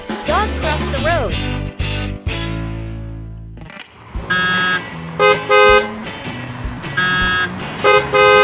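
Cartoon street scene of busy road traffic, with repeated electronic-sounding car horn toots and alarm-like tones sounding in bursts over passing vehicle noise and a cartoon voice.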